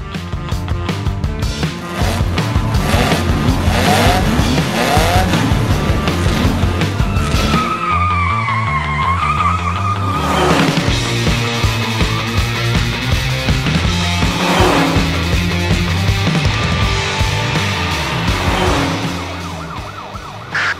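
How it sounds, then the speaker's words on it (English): Racing cars in an animated Handy Andy chase roar past with shrill tire skids and siren-like wails, loud and continuous throughout with a busy music-like layer over the engine noise. "We're chasing two racing cars now."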